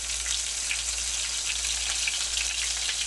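Mushroom tempura fries in very hot oil, giving a dense, steady sizzle of crackling bubbles and pops with no talking over it.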